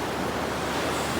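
Sea waves at Bucana Beach in Batangas give a steady, close wash of surf and rushing water that fills the whole moment with no voices.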